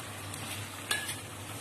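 Raw green chillies sizzling in a frying pan as masala khichdi cooks, a soft steady hiss with a faint brief scrape near the middle, quiet and with no talk.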